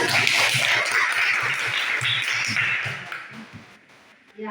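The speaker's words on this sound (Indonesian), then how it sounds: "Ya, kita beri tepuk tangan." A classroom of students claps together after a group presentation in a lesson, a steady, dense patter of applause that holds for a few seconds before fading out near the end.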